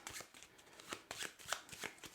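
Board game cards from a discard pile being shuffled by hand, quiet and close, with a run of soft riffling flicks and pats over about two seconds.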